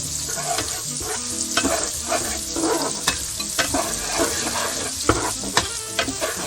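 Onions sweating in a hot pan, a steady close sizzle broken by repeated scraping and clinking strokes as they are stirred.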